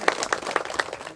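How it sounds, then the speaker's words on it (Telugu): A small crowd claps in steady rhythmic unison at a Sri Lakshmi Narasimha Swamy kalyanam temple festival in Mallaram village, about five even beats over a second, fairly close. "మీరందరూ మీకు సంతోషం అనిపిస్తే చప్పట్లు కొట్టండి"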